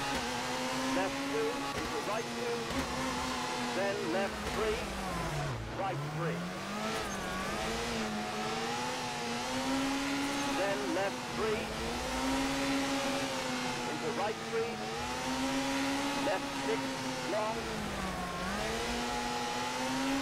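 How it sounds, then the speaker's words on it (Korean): A rally car's turbo engine in WRC 4, on a Rally Sweden stage, drones steadily at high revs, rising and dipping in pitch across the whole stretch. "터보 엔진 소리밖에 안 들려가지고."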